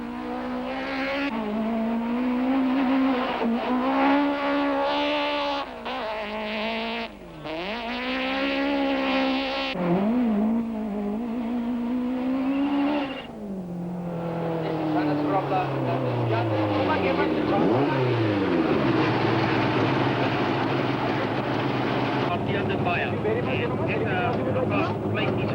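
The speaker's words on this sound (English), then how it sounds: "Hannes Grobler and Douglas Judd attack this short stage in the local showgrounds" Volkswagen rally cars at the 1992 International Rally attack a short, tight stage in local showgrounds, engines revving hard with rising and falling pitch sweeps and gear changes, loud and close under continuous commentary.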